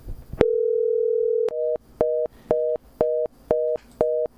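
A telephone call tone: one long steady tone, then a run of short evenly spaced beeps, clear and loud with no voices over it.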